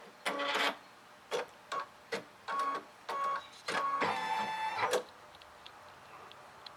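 A Baby Lock embroidery machine stitching a design, heard up close as a series of separate bursts of rapid mechanical chattering with brief pauses between them, ending in one longer run before the motor falls quiet.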